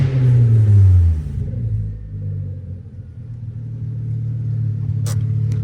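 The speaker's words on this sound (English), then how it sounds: "Even though the car sounds like a pile of ass," A 2002 VW MK5 Jetta running with open headers and no exhaust: a loud, deep rev falls away, then the engine settles into a steady, rough, droning idle.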